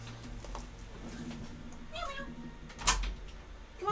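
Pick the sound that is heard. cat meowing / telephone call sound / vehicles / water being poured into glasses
cat meowing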